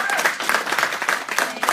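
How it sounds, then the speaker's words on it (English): An audience applauds at a Milpitas launch event with dense, continuous clapping that sounds close and full for the whole short stretch. "Let's give them a big round of applause."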